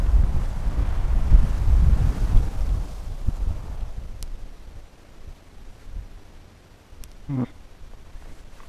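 Gusty wind buffets the microphone at a lakeside fishing spot, heavy at first and then easing into softer rumbles, with a brief thin squeak near the end.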